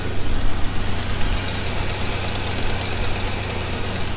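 A car engine idling steadily after a broken spark plug was repaired, giving a continuous, even, fairly loud rumble with a strong low drone and broadband hiss and no pauses.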